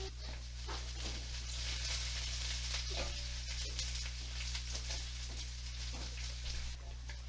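Carrots frying in a pan for a chicken stir fry, a steady soft sizzle with faint crackles throughout, heard fairly close over a constant low hum and without talk.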